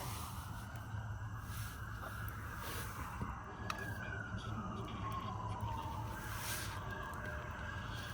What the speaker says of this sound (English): Sirens, cops.